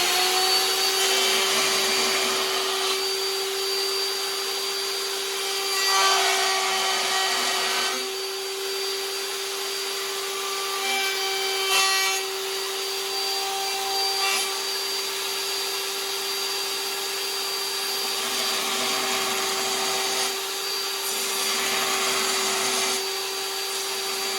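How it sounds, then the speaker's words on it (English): A wood router cuts a wooden handle, a steady high-pitched motor whine with a constant tone, swelling into louder cutting bursts several times across the span, close and loud with no talk. "We're gonna go ahead and move to our router."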